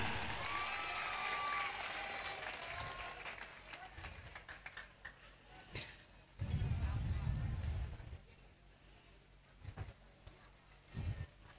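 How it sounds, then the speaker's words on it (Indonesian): An audience at an Islamic business study gathering claps as a doctor is invited forward, a broad burst of applause mixed with talk from the stage, followed by quieter thumps and scattered sounds. "Tepuk tangan."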